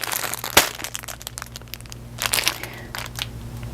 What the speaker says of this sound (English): Hopefully it's not super annoying because of all the crinkling